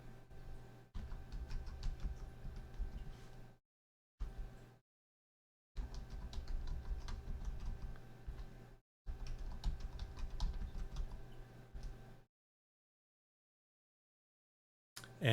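Keys clack on a computer keyboard during a Ubuntu WSL2 setup on Windows 10 Home as a Unix username is typed, in quiet close bursts of rapid keystrokes separated by silent pauses.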